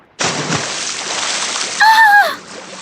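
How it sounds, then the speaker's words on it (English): A single loud splash of water bursts in and washes on for a couple of seconds, with a brief tonal squeal near the end. "Then a big wave splashed her face."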